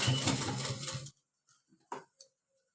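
Machine stitching a handmade tote bag: a dense, steady mechanical whir runs for about a second, then stops, leaving a few faint clicks and taps in near silence.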